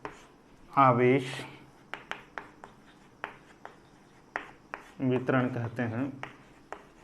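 During a physics lesson on charge distribution, handwriting produces short, scratchy strokes in quick bursts, mostly in the pauses between stretches of spoken explanation.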